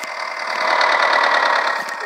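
A Ford tractor engine runs in the Farming Simulator video game, a loud, steady mechanical drone with a rapid rhythmic knock that swells slightly in the middle and holds on alone.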